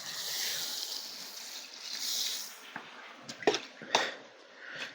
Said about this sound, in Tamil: நம்மளுக்கு வந்து குடிக்க தண்ணி வேணுன்றதுனால நிறைய தண்ணி ஊற்றிடலாம் ஃப்ரெண்ட்ஸ்.